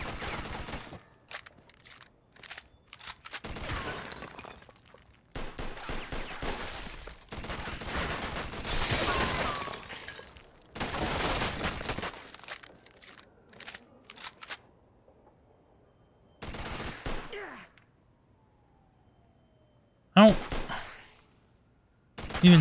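Gunfire in Mafia 2: Definitive Edition comes in several loud, rapid bursts separated by quiet gaps, with someone talking in between.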